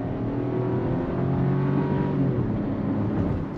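A 2024 Chevrolet Trax LT SUV accelerates on throttle, its engine hum climbing steadily in pitch, heard from inside the cabin, moderately loud and continuous.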